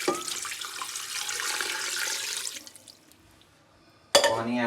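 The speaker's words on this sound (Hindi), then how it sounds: "ये करके अब पानी इसके अंदर ऐड करेंगे।" Water pours steadily from a tap into a pressure cooker holding lamb curry, a rushing splashing stream that stops partway through, followed by a brief burst of a nearby voice.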